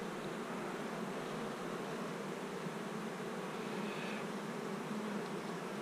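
Honey bees at a hive make a dense, steady buzz that fills the space, close and unbroken, with no voices.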